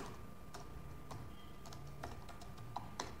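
Keys clicking on a computer keyboard as names are typed into a word processor, a sparse, irregular run of light taps over a steady faint hum, with no voices.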